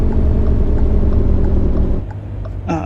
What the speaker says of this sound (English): I'm using the engine brake.